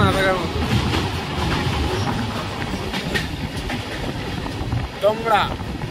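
Rupasi Bangla express train speeding through a forested stretch near Adra, Purulia, with a steady rumbling rattle of carriages and wheel clatter throughout, a brief squeal near the end, and faint voices underneath.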